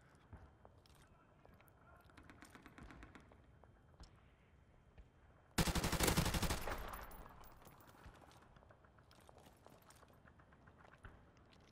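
Burst of gunfire in Modern Warfare Remastered search-and-destroy play, a loud dense volley lasting about a second before fading, set against quieter game ambience and soft distant shots.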